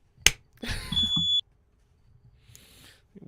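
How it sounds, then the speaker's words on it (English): A smoke detector set off by baking cookies gives a short sharp electronic beep, then a brief shrill tone lasting about half a second, followed by a fainter chirp, in an otherwise quiet room. "that was a fire alarm going off"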